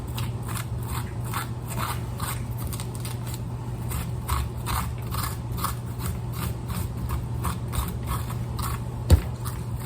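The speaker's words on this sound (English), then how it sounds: "Scrape all this pulp out of it." A spoon scrapes the stringy pulp out of the middle of a halved spaghetti squash in quick, rhythmic, moist strokes. A steady low hum runs underneath, and a single knock sounds near the end.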